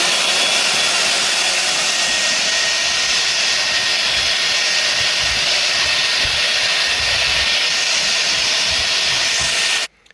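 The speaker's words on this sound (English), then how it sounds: "I'll go ahead and vacuum some of this sand, and you'll see how easily it works." A loud cordless shop vac motor roars with a steady hiss of suction while vacuuming sand, running close and continuously before cutting off abruptly at the end.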